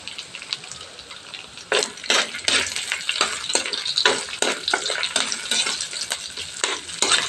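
Chicken frying in a pan for an ampalaya (bitter melon) dinner, with steady loud sizzling broken by repeated scraping stirs of a utensil against the pan, close up and with no talking.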